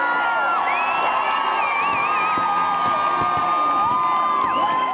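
A large crowd in Utah cheers as the Olympic torch arrives at City Hall: sustained loud roaring with whoops, whistles and high children's shouts, unbroken for the whole stretch.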